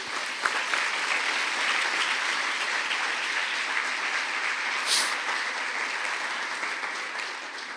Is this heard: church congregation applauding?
yes